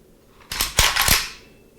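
Trigger pulls on a Kalashnikov-USA KR103 rifle, a quick series of three sharp metallic clicks close up, fading with a short ringing tail in a quiet room.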